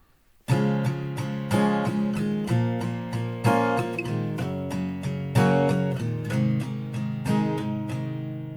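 Plucked guitar notes picked one after another in a steady run over ringing chords, close and clear, with no talking.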